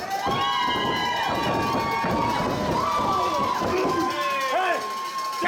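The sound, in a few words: crowd cheering at a wrestling match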